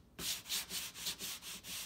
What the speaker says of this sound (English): using the rough sandpaper block. Kind of work my way in.